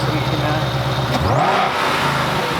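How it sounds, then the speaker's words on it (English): A supercharged 760-horsepower Shelby GT500 V8 runs nearby with a deep, steady rumble. A brief swell of revving rises midway, with faint background voices around it. "It's supercharged V8, 760 brake horsepower, and it's actually running at the moment"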